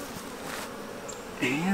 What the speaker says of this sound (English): there's a lot of bees up top